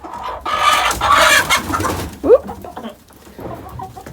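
Chickens clucking and cooing near a coop on a snowy day, a busy run of close, moderately loud bird calls that thins out as a person briefly exclaims.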